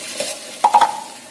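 Sausage and squid cooking in a pan with a little water added, giving a loud, brief stirring scrape and sizzle with a few sharp clinks near the end.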